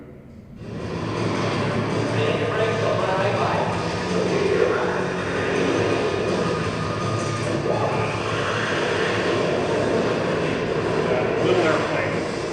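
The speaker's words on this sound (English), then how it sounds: "That little airplane is an A4." An A4 airplane flies overhead, a steady broad jet roar that rises quickly and holds loud and sustained, with faint speech beneath it.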